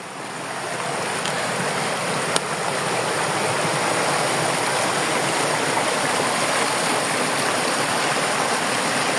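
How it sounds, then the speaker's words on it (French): A small stream near an abandoned house flows steadily with a broad, even rushing and gurgling, close and unbroken throughout, with no voices. "Et ben voilà, on a retrouvé notre petit ruisseau."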